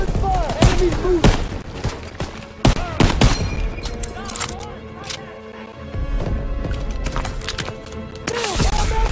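Gunfire in the video game Call of Duty: WWII, with loud rifle shots and rapid bursts crackling in close succession, mixed with shouted voices and battlefield noise.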